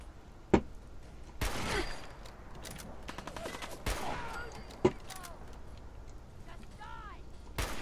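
Rifle gunfire in the video game Fallout 4: a few sharp, isolated shots at irregular intervals, with a burst of broadband crackle, set against quiet background ambience.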